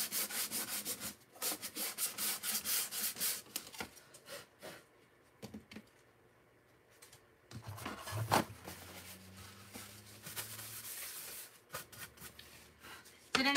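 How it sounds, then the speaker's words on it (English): Wood is hand-sanded over spots of wood filler in a quiet indoor craft setting, with rhythmic scratchy rubbing strokes in bursts broken by pauses and faint background sounds. "Just sand where that wood filler was."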